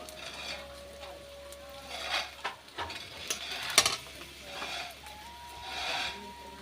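Garlic paste added to browned chopped onion in hot oil in a wok, stirred with a utensil: soft sizzling with irregular scraping and clinking strokes against the pan, swelling and fading over several seconds, fairly quiet.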